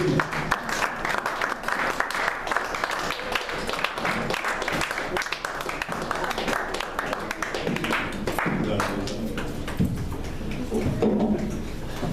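Church congregation applauding and clapping throughout, a steady dense wave of claps with voices mixed in, fading somewhat toward the end as speech takes over.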